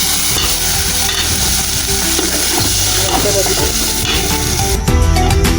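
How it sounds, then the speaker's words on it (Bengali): Spice paste with dried fish sizzles loudly in a pan while being stirred, a dense continuous frying hiss with scraping strokes throughout, close and without speech. "তো মশলাটা কষানো পর্যন্ত অপেক্ষা করি"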